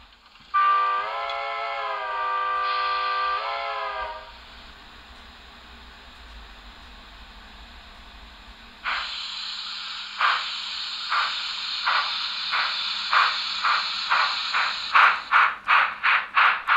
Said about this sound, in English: An MFX Plus decoder includes numerous light and sound functions.